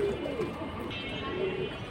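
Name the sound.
silver hammer pigeons cooing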